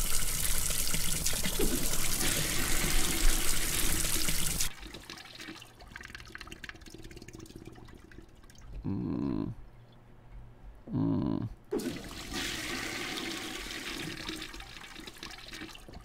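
A toilet flush in the video game Death Flush: a loud rushing gush of water that cuts off abruptly, followed by quieter trickling and a couple of short gurgling surges, then the running water returns at full strength.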